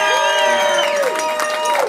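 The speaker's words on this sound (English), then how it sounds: "Give yourselves a big round of applause." A concert crowd at an acoustic show cheers, with long rising and falling whoops and whistles standing out over a fairly loud, continuous wash of audience noise.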